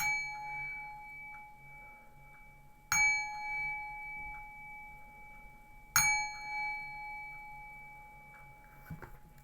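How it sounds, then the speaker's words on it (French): Three ringing gong strikes spaced about three seconds apart, each a sharp metallic hit followed by a long sustained tone that decays slowly in a quiet room. "Je vais procéder à 3 petits coups de gong."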